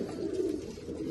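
Racing pigeons kept by a breeder coo in a low, throaty, continuous murmur, close and fairly soft, with no talking over it.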